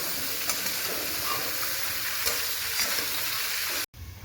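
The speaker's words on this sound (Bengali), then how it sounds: "এই কাঁচা গন্ধ কাটানোর জন্য সবজিগুলো এই তেলেই ভেজে নেব। পটল, ডাঁটা, আলু" Pointed gourd, vegetable stems and potato frying together in oil make a close, steady sizzle and hiss with a few soft stirring knocks. It stops abruptly near the end, and no one talks.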